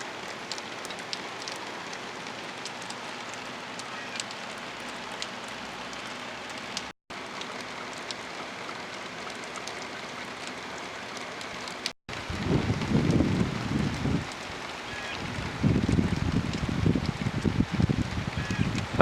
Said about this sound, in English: Here comes the storm. The rain is coming just in time because I need a break.